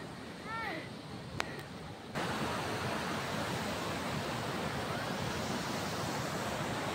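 A waterfall's broad, steady roar, loud and continuous, preceded by a short stretch of quieter ambience with a few chirps and a click before the rushing water swells in.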